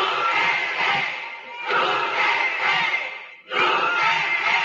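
A rally crowd of attendees shouts and chants in loud, sustained bursts that swell together, break off briefly and then resume, with no single voice standing out.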